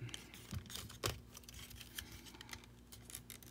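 Small plastic wing pieces on a Transformers Earthrise Ramjet or Dirge figure folded down by hand, giving a few faint, sharp plastic clicks and light rattles, close up and quiet.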